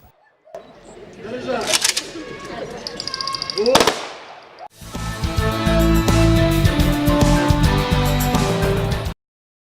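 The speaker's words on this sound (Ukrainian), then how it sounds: "На завершення пролунали три традиційні постріли" Three sharp ceremonial gun salute bangs ring out outdoors over a murmur of voices at a Victory Day veterans' commemoration, then band music starts up and plays loudly.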